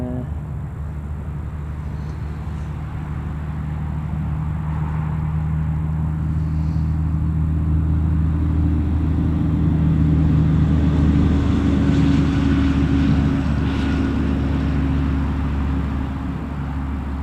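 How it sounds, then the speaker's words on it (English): A British Airways airliner's jet engines spool up at Newcastle Airport, a continuous distant roar and low hum that swells slowly and holds steady with no talking. "I think I can hear the British Airways engines starting up."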